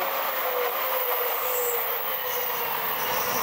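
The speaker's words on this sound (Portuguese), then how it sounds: "Trem-bala esse aí." A Shinkansen bullet train rushes past loudly and close in Mishima, Japan, a continuous roaring whoosh with high metallic squeal, sustained for the whole stretch without speech.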